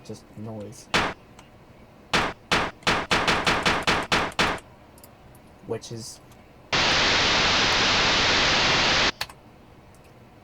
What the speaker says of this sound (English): snare is actually made from just a noise